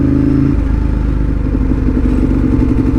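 A Ducati 1098 twin-cylinder motorcycle engine pulses loud and close at low revs while riding slowly, with a steady, slightly juddery throb and the pitch shifting a little early on.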